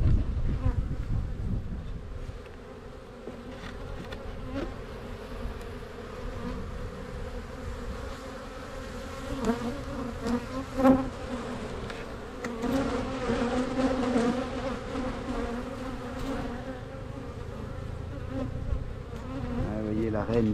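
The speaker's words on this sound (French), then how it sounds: "c'est une colonie que je vais mettre en ruche parce que là il n'y a plus de place" A crowded honeybee colony buzzes steadily and densely during a spring hive inspection, as the colony has run out of space and is about to be moved into a hive. The hum is loud, close and continuous throughout.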